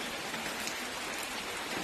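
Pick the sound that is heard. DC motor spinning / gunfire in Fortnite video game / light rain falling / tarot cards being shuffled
light rain falling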